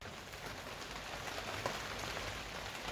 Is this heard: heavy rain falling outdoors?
yes